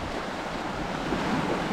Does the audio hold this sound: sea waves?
yes